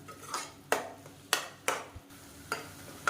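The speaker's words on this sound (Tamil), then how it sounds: "மசாலாவை சேர்த்துட்டு விட்டுறாமல் இந்த மாதிரி இடையில நல்லா கிளறி விட்டுக்கிட்டே இருங்க" Kuruma masala stirred and sautéed in oil in a metal pan, a spoon scraping and clanking against the vessel in sharp irregular strokes over a faint background sizzle, close and alone.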